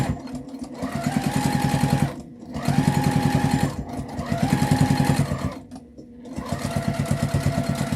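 A sewing machine stitches a quilt-as-you-go table runner in three bursts of rapid, even needle chatter, each separated by a short pause, loud and close.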